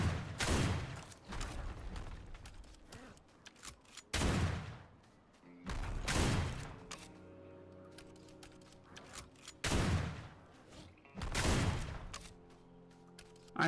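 Bursts of video game gunfire roughly every two seconds, each a loud crackling volley followed by a short trailing rumble, with quieter mechanical game noise between shots.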